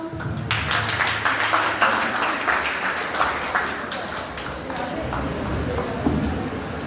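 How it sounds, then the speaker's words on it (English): Audience applause at a college Defence Day celebration in Larkana, steady dense clapping filling the whole stretch with a crowd murmur and some voices underneath. "So please give a round of applause."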